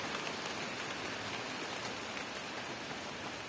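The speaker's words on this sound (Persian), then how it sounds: "بارون که میباره" Steady rain falls evenly in a soft, constant hiss with no other sounds.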